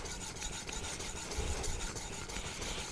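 A convex-ground knife being sharpened on a Naniwa diamond whetstone, producing a continuous gritty rubbing rasp from repeated strokes of steel across the stone, close up and fairly quiet.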